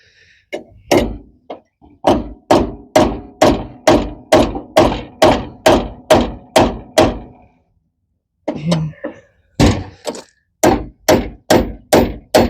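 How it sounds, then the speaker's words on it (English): An old framing hammer strikes a Squarebody truck door pin again and again at about two blows per second, pauses briefly, then starts pounding again, loud and close. "so we're using an old framing hammer"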